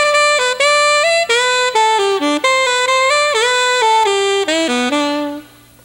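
Saxophone playing a high, flat-sounding melodic line, a run of clear sustained notes with short breaks between phrases, loud and close with no other instruments, fading out at the end.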